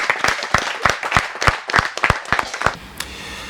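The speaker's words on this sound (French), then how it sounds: "Est-ce qu'on peut applaudir pour Shalom?" Brisk audience applause with dense overlapping claps and a lively, close crowd sound, fading out abruptly into quiet room tone near the end.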